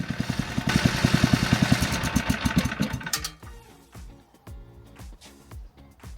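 A racing lawn mower's small engine runs with a fast, rough chugging, then drops to an uneven, sputtering idle with irregular pops.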